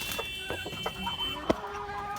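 Chickens, a male and a female, cluck in short, scattered calls on a rooftop, moderately close, with a sharp louder cluck near the end over a steady background hum.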